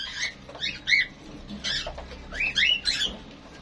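Pet birds kept in a balcony farm during a hot spell chirp and squeak in several short, bright bursts, clustered calls rising and falling close by over a low background hum, with no talking.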